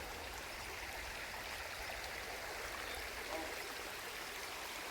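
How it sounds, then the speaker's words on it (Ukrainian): A river rushes in a steady, dense wash of flowing water, continuous and fairly loud, with no other sounds standing out. "П'ятий день річка тече."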